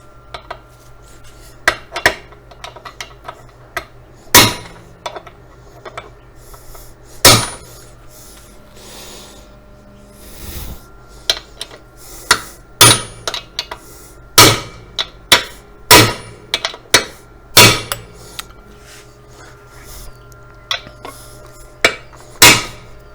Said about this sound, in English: So just go get the big hammer.